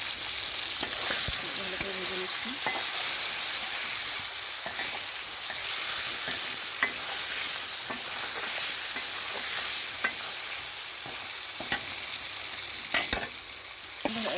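Magur catfish seasoned with turmeric, salt and dried chili powder deep-fry in oil with a continuous close sizzle, broken by occasional crackles and utensil knocks.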